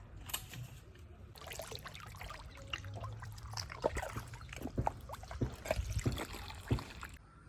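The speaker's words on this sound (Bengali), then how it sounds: "আমাদের কিন্তু অনেক দূর থেকে নৌকাটা ঠেলে আনতে হচ্ছে" A wooden boat is pushed through river water, giving a run of wet splashes, sloshing and trickles that grow busier and louder toward the end, with some handling knocks mixed in and no talk.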